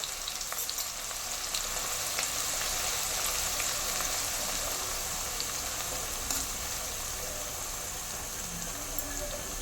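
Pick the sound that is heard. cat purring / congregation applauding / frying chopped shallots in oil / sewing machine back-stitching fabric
frying chopped shallots in oil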